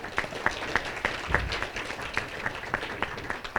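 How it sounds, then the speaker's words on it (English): An audience at an All Nations engagement session gives a round of applause, with regular, fairly sparse claps that sound like a modest gathering in a room, steady for a few seconds. "and if we can get a round of applause for Judy"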